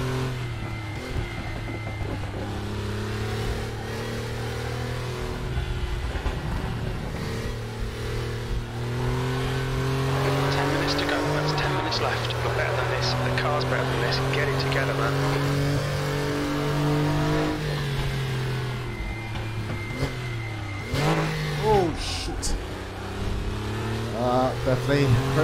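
A Porsche 911 (964) race car at Bilster Berg in a racing game, its engine droning and revving with pitch rising and falling through downshifts, continuous and close, with occasional talk over it.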